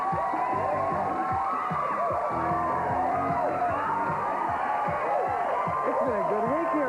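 A studio audience on a 1987 episode of The All New Dating Game cheers and whoops for the host, a dense, steady crowd roar of shouts and hollers that lasts the whole stretch without letting up.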